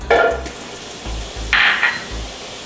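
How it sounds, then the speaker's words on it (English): Butter and onions with mushrooms fry in a pan, a soft sizzle broken by a couple of louder bursts of hissing as food is stirred, with low thumps underneath. "Nice little sizzle."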